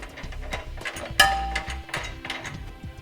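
A wrench ratchets a flange nut onto a bolt while a Curt trailer hitch receiver is fitted beneath a 2016 Volvo XC60, giving repeated close mechanical clicks with one sharper metallic knock partway through.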